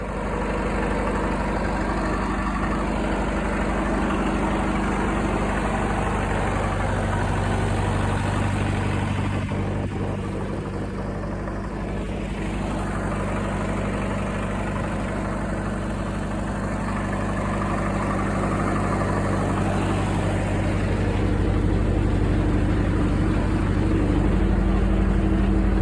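A restored Caterpillar grader's engine runs at a steady, loud, close idle with a deep low rumble and constant mechanical churn throughout, and no talk.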